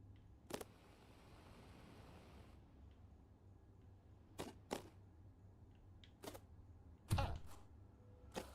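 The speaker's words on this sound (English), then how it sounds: "You can probably hear my stick clicking around a bunch" Game controller thumbstick clicking, a handful of sharp, faint isolated clicks scattered irregularly over a quiet background.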